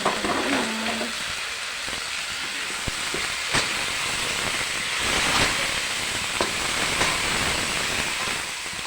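Chicken feet hit a hot pan for adobo with pineapple, giving a continuous hissing sizzle with scattered sharp pops and clinks, fairly loud and without speech.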